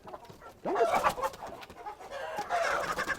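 Chickens cluck and squawk in a lively, uneven chorus close by, with overlapping calls and rustling and no talk over them.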